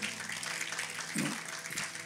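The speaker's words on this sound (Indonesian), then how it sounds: "Tepuk tangan dulu supaya gak ngantuk ini." A church congregation claps during a sermon, producing a brief burst of moderate, fairly even applause inside a reverberant hall, with a faint voice mixed in.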